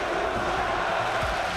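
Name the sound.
crowd cheering for KOO Tigers at esports finals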